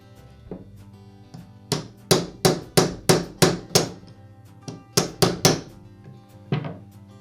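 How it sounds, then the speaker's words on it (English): A Makita angle grinder ball bearing (629LL) being tapped into the gear housing with a socket, heard as a series of sharp, close metallic hammer blows in quick bursts, about fourteen strikes with short pauses between groups. "use a socket that has a diameter the same as the outer race on the bearing to tap it into place"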